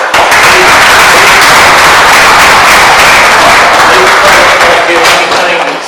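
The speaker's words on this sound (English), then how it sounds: "Let's give them an applause" Audience applause for school district staff at a district teacher-of-the-year ceremony, a dense, loud, steady wash of clapping that runs for the whole stretch without letting up.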